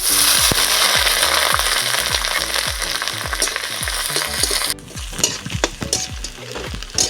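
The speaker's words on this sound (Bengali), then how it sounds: "ভালো করে আদাটাকে ভেজে নিতে হবে মশলাটা আমি ভালো করে ভেজে নেব" Dried and green chillies with chopped ginger fry in a pan, a close, loud sizzle punctuated by rapid rhythmic spatula knocks against the metal, easing slightly in intensity toward the end.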